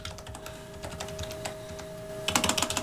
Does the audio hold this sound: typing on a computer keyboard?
yes